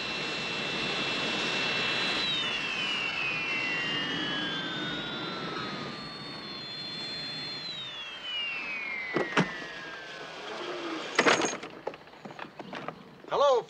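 A jet airplane's engines whine with a long rising and falling tone through the first part, then fade as a few sharp knocks and rustles come in near the end, with a voice heard faintly.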